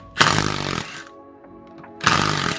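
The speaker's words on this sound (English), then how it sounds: "To take this actual gear off right here, you want to take a 19mm socket and an impact wrench." Two loud bursts of an impact wrench with a 19mm socket removing the differential gear from a 2005–2006 BMW E46 M3, close up, separated by a short pause with light clinks.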